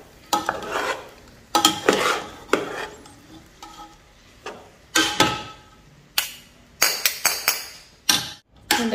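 Chicken fried rice is tossed and mixed in a large pan, with loud bursts of scraping and clattering spatula strokes separated by brief quieter gaps and a faint sizzle beneath.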